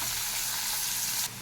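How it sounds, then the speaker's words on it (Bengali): Pumpkin and bitter gourd sizzle in oil in a wok, a dense steady frying hiss close up that drops suddenly just before the end. "উচ্ছেটাকে এরমভাবে ভাজার পরে কুমড়োটাকে দিয়ে দিতে হবে।"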